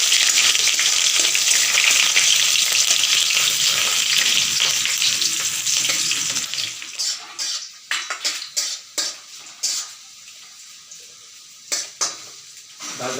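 Chopped onion hits hot oil with dried red chillies in a home pan, a loud steady sizzle for several seconds that then breaks into short bursts of frying and utensil clatter as it settles.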